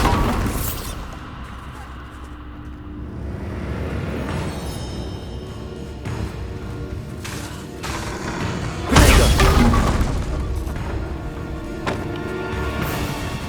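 A Bombarda blasting spell in Hogwarts Legacy on PS5 erupts with crashing, shattering impacts and thuds, building to a loud burst near the middle amid ongoing game clatter and some talk.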